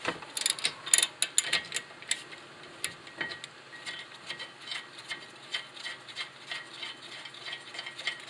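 A ratchet fitted with a 17 mm socket loosens brake caliper bracket bolts on a 2011–2017 Toyota Sienna, giving quick runs of close, dry clicking with brief pauses between strokes that taper to lighter, even ticking.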